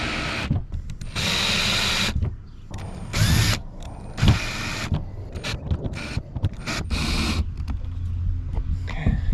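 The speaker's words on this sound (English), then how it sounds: "And now I can get my ratchet under there on this guy" A ratchet wrench tightens the bolts of a Yak Attack Mighty Mount II on a kayak, giving bursts of rapid mechanical clicking separated by short pauses, close and fairly loud.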